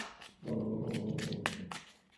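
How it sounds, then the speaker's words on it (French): Dogs growling in a low, sustained rumble lasting about a second and a half, fairly faint and close, with short higher yips over it. "Pardon, c'est les chiens."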